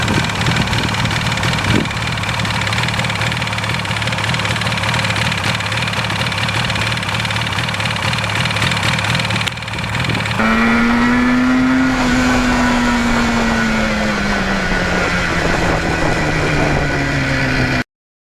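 A 1977 Yamaha RD 400 motorcycle engine runs nearby, first idling with a steady pulsing beat, then revving up with a rising and falling whine before cutting off abruptly.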